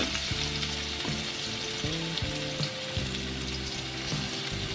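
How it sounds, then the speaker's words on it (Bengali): Chopped onion goes into the oil left over from frying and sizzles in a pan, a continuous close hiss with tonal background music playing over it. "যে তেলটা রয়েছে ভাজার পরে ওতে পেঁয়াজ কুচানোটা দিয়ে দিলাম।"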